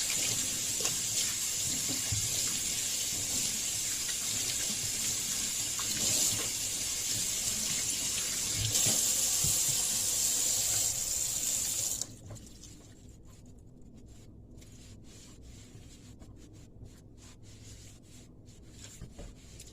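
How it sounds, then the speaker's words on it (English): Hands are scrubbed under a running kitchen tap, the steady close water rush with rubbing giving way to a quieter, softer trickle toward the end, with no talking. "Hand washing is very important in Lady O's kitchen."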